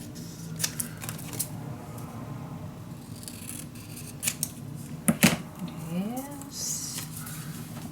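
Scissors snipping through scrapbook paper for a mini album cover, a few separate crisp cuts and small rustles close by, with quiet background and a short voice near the end.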